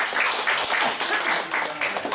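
Audience applause at the close of a talk on the origins of proverbs, given to a small group of under twenty people; dense steady clapping with no voices.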